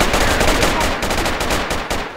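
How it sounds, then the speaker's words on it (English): Rapid automatic gunfire in the Project Reality v1.2 military shooter, a burst that hits a teammate, rattling loud and close in dense continuous bursts for about two seconds. "I shot a teammate."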